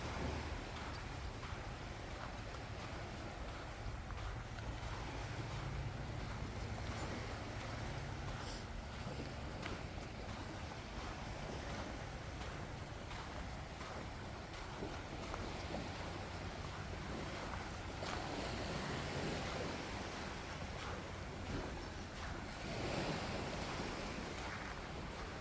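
Waves wash continuously onto the beach at Hua Hin, Thailand, a broad steady surf roar with wind buffeting the microphone throughout and no talking.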